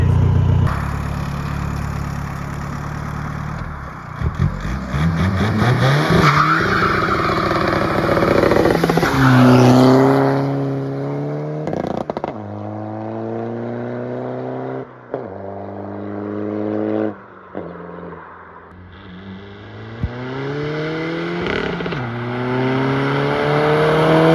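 SEAT car revving and accelerating, loud and close, with rising engine sweeps through repeated gear changes and short throttle blips, alone with no talk.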